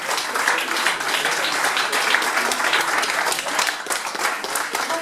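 A crowd at a 2014 road race in Grémévillers applauds a finishing runner, dense sustained clapping from many spectators, loud and continuous across the whole stretch.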